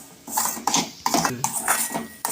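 Roasted semolina in ghee with turmeric is stirred in a metal pan, a series of close, scraping spoon strokes with small clinks in an uneven rhythm.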